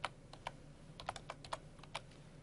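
Quiet typing on a computer keyboard while entering a virtual disk name, a soft uneven patter of individual key clicks, close but faint, with no voices.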